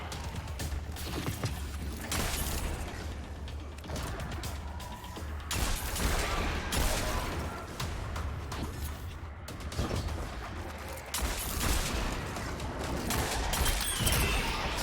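Rapid gunshots from a video game crack in a dense, steady stream of bursts over a constant bed of in-game noise, fairly loud throughout with no clear talk.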